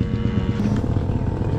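A motorcycle roars on a race track, a loud, steady engine drone heard close up from the rider's position, without a break for the whole short stretch.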